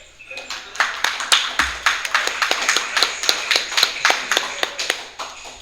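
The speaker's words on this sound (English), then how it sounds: "let's have a round of applause for our second speaker." An audience at a software-defined radio meetup applauds a speaker with a steady patter of many hands clapping at close range, sustained for several seconds before tapering off.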